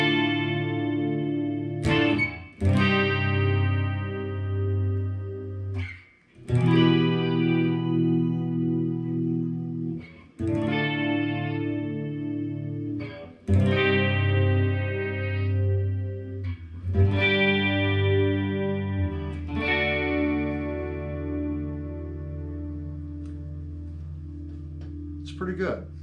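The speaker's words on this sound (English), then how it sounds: "now that the guitar is completely tuned up in its stock form, let's listen to it and see what" Firefly FFMN electric guitar played through a Celestion cabinet on a clean channel, freshly tuned in stock form: strummed chords and ringing sustained notes in several phrases with short pauses, loud and close, carrying chorus and effects shimmer.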